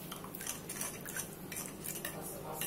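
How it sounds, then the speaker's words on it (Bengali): A spoon stirs custard powder halua in a metal pan, making faint, quick clinking and scraping strokes in a rapid, uneven rhythm. "ভালো মতো মিক্স করে থাকবে"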